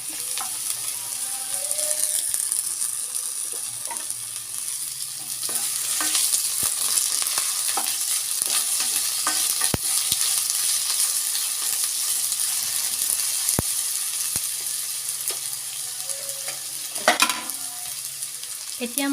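Potatoes and browned onions fry in a pan with a steady, close sizzle, punctuated by occasional clinks and scrapes of a spatula stirring.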